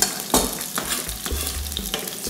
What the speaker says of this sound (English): once you hear a sizzle, you're doing something good.